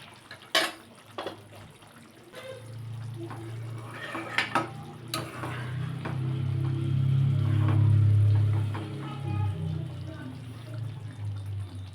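Egg green gravy bubbling in a pot on a medium flame, a steady low simmering rumble with scattered clinks and stirring knocks throughout.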